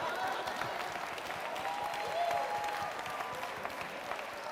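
An audience at a sermon breaks into steady, continuous clapping, heard at a distance and fairly faint, with a voice faintly audible underneath.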